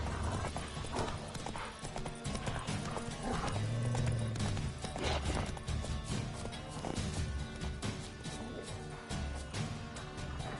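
A horse gallops in The Witcher 3 video game, with fast rhythmic hoofbeats over a continuous bed of game music and ambience, plus a brief whinny, loud and steady throughout.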